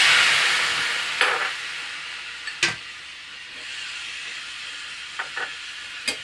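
Tomatoes and onions fry in a pan without ghee, giving a soft continuous sizzle and hiss, with a few sharp scraping stir clicks at intervals.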